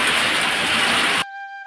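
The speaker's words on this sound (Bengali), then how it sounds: "বাইরে মানে মুষলধারে বৃষ্টি হচ্ছে" Heavy downpour with small hailstones, heard from indoors, as a loud, steady broadband hiss of rain that cuts off abruptly after about a second, leaving a faint tonal hum.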